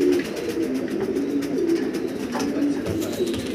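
A pair of pigeons, a shortface and a racer, coo in repeated low, soft calls close by, with a steady murmur of background noise throughout.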